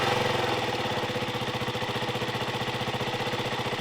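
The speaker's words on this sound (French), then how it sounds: "un petit tour de clé, on attend que la moto se mette en route" Close, steady idle of a KTM RC 125 motorcycle engine with a new air filter, a rapid even pulsing putter that holds constant throughout with no other sounds.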